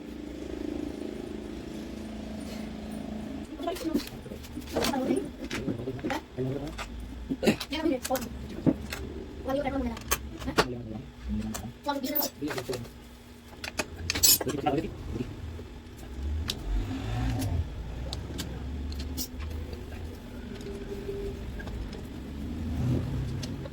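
Bolts are tightened on a Honda Dazzler motorcycle, with a series of sharp metallic clicks and clinks of tools spread across a workshop scene, mixed with someone talking.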